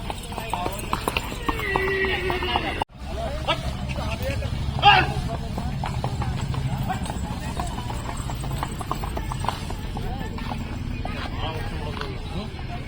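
At a horse fair in Akluj, horses clip-clop steadily close by, and one whinny stands out briefly. Crowd chatter and talking run continuously over the hoofbeats.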